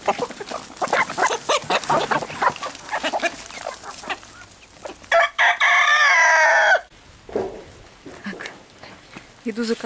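A rooster crows loudly and close for a couple of seconds amid hens clucking around it, with someone talking before and after.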